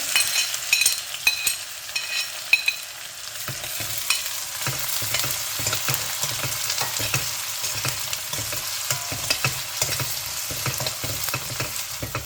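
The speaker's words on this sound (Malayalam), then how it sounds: "ജിഞ്ചർ ഗാർലിക് ചതച്ചത്, പിന്നെ നമ്മുടെ കരിയാപ്പല എല്ലാം ഇട്ട് മൂപ്പിക്കുന്നു." Onion, crushed ginger, garlic and curry leaves fry in hot oil for a beef roast, a loud continuous sizzle with repeated scraping stirs of a spoon against the pan, close up and without talk.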